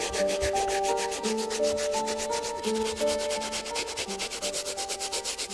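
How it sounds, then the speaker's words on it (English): A medium bristle brush scrubs the uppers of black Yeezy 350 sneakers during cleaning, a close, steady rhythmic rubbing with quick repeated strokes that speed into a fast, even pulse toward the end. "We're gonna move on to our medium bristle brush to scrub a bit more on the uppers before we move on to the midsoles."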